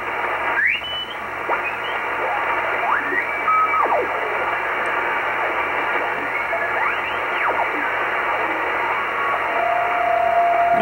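On shortwave radio between 6 and 8 MHz, CW Morse tones come through a hiss of static, with sliding, whistling signals and a thin steady tone near the end, all fairly loud and with no voices.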